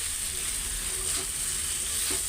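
Onion, garlic, potato and pre-fried dried fish sauté in oil in a pan, giving a steady, close, continuous sizzle with no break.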